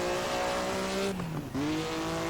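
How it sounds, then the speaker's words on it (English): Close, loud engine of a classic Maserati 250F Grand Prix racer revving hard, dropping briefly on a gear change before climbing again, with tires squealing alone and no talk. "But that's the Maserati 250F."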